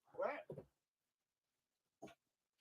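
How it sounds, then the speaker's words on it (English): A dog gives a couple of short, sharp barks close by, followed by one more after a pause, with quiet gaps between them. "That's a hell of a bark. That's a ferocious bark."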